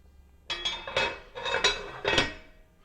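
A lid set onto a cooking pot of ropa vieja, several close metallic clanks and clinks in quick succession as it is shifted and seated over about two seconds.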